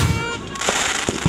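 A rapid series of New Year's fireworks bursts in Antipolo, Rizal, sharp cracks popping in quick succession over a loud, noisy background.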